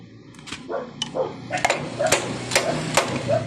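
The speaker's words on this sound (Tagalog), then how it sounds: "Tulad po sa kabila, pupukpukin natin ng dahan-dahan." Light hammer taps strike a motorcycle swing arm part during a repair, about seven gentle, separate knocks at an uneven pace, close and fairly loud.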